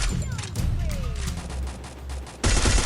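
Gunfire in the mobile game Free Fire, with a string of sharp, crackling shots spread through the moment and a dense, loud burst of firing at the end, mixed with game effects.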